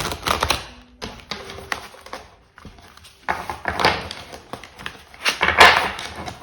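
Tarot cards riffle and snap as a deck is shuffled and cut, giving bursts of crisp papery flutter and taps broken by short pauses, close and fairly loud with no talking.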